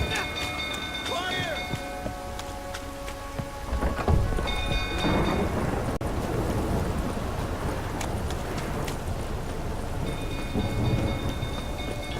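Thunderstorm in The Witcher 3 game world, with steady heavy rain pattering throughout and a loud lightning strike cracking and rumbling near the middle, followed by continuing downpour and distant thunder.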